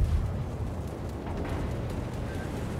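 Naval gunfire in World of Warships, a dense, continuous rumbling roar of shell fire and distant booms that fills the clip without pause and sits loud and close.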